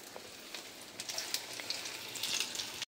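Nigella seeds (kalo jire) sizzle in hot oil while cauliflower fritters fry, a steady close hiss dotted with small sharp crackles and pops throughout, with no voices.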